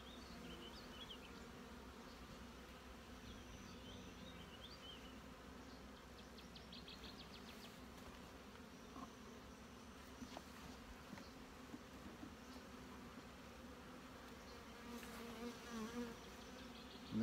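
Honeybees buzz in a steady, dense drone while beehive nucs are sorted outdoors, with a constant low hum throughout, occasional louder passes of single bees near the ear, and faint birdsong in the background, no talk.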